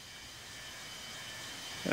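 An airplane takes off in the Infinite Flight simulator, a faint steady jet-engine drone with hiss that builds slightly, ending in a brief louder knock.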